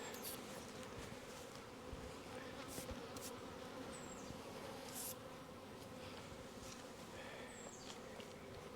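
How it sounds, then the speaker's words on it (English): Honey bees buzz in a steady, dense drone around a capped honey frame during a hive inspection, with occasional individual bees zipping close by over the continuous hum. "shake off most of the bees,"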